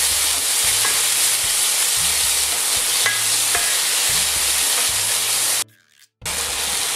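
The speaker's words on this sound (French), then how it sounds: "Je vais le faire griller un petit peu." Tomato concentrate fries and sizzles in a pan, a steady broadband hiss with a few faint scraping stirs and a low recurring hum underneath, cutting out abruptly for half a second near the end.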